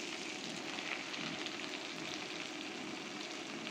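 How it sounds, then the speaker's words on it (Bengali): Chopped leafy greens hit a pan of garlic and onion fried for two minutes, producing a soft, steady sizzle and crackle that stays even and fairly faint throughout. "রসুন পেঁয়াজ একটু 2 মিনিট ভেজে নিলাম। এখন দিয়ে দিচ্ছি শাক।"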